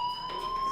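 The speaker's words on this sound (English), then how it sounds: "do you hear that fire alarm?" School fire alarm in the game Life is Strange, a loud, steady electronic tone with a high whine holding at constant pitch throughout.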